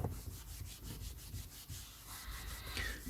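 A vintage pan being polished and cleaned by hand gives a steady, close rubbing and scrubbing sound in repeated short strokes, with no talking.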